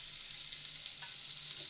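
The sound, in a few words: tomatoes sizzling as they are added to the pan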